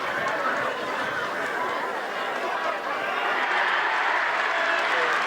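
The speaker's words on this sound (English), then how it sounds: "you can tell from the crowd noise on the far side on the gully, they like what they saw there" A crowd at a schoolboy rugby match between New Plymouth Boys' High and St Patrick's College Silverstream roars and cheers from a distance, a broad sustained swell of voices with scattered clapping and chatter.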